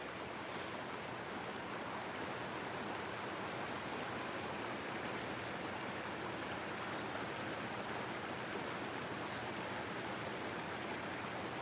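Steady rain in far west Texas, a dense even hiss falling without pause, with no voices over it.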